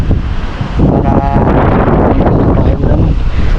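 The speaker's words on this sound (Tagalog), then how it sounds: "Pero ngayon hangin na lang yung malakas mga idol. Ito po yung bagyong Basyang." Strong typhoon wind from Typhoon Basyang roars steadily and loudly outdoors, a dense broadband rush with gusty surges and rustling, close to the microphone throughout.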